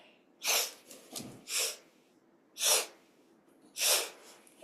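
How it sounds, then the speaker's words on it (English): Four sharp nasal sniffs of air, close and fairly loud, spaced irregularly with short breaths between, taken during a guided yoga breathing exercise. "Little sniffs of air."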